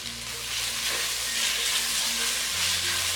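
Onion and green chillies sautéing with salt for masala dosa filling give a steady close sizzle, a broad frying hiss with a low hum beneath, and no talk.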